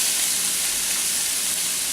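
Chopped peppers and onions sizzle in hot oil in a pan, a steady close crackling hiss that runs loud and unbroken throughout.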